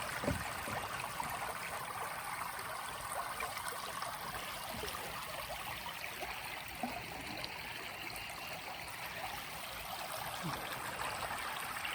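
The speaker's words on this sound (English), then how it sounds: "just listen to the water" Water in a stream at a campground flows with a steady, even rush and trickle that stays constant and close throughout, with no voices.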